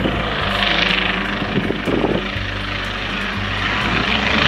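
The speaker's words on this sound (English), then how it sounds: "A nice twin taking off here." A twin-engine airplane takes off at an airport, its propeller engines a broad, steady roar held throughout, close and loud, with faint wind buffeting mixed in.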